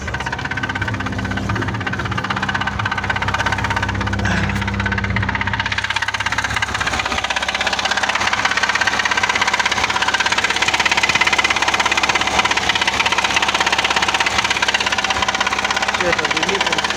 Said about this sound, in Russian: Ну стучит, ребята.